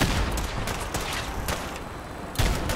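Gunshots in the video game Fallout 4, played on Survival mode: a rapid, steady stream of loud close shots, with a sharper burst near the end.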